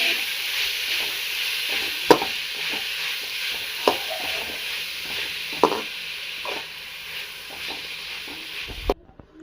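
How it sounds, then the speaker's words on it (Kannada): Tomato fries in a pan with a soft, steady sizzle. Spoon knocks against the pan come roughly every two seconds while it is stirred, then the sound stops abruptly at the end. "ಟೊಮೆಟೊ ಹಾಕೊಂಡು ನೀಟಾಗಿ ಫ್ರೈ ಮಾಡ್ಕೊಳ್ಳಿ"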